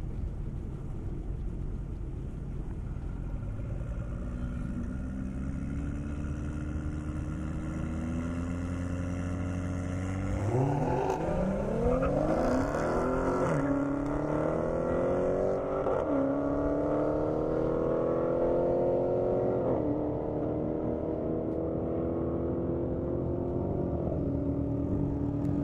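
On an airstrip, a Toyota Supra and a 707-horsepower Dodge Charger Hellcat race, engines accelerating with rising, sweeping pitch. A louder second engine surges in midway, the two roaring through gear changes at a moderate distance.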